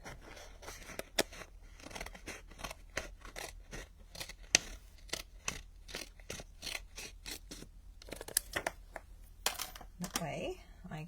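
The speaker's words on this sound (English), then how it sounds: "Get my snips out. And cut along there." Snips cut along a piece of card in a rapid series of crisp snipping clicks, close and fairly quiet, with a pause near the end and soft handling rustle.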